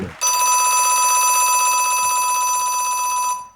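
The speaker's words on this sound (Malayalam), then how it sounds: "Third bell." A shrill electric bell rings without a break for over three seconds, loud and steady, then stops abruptly. It is the third bell starting a stage play at a festival ground.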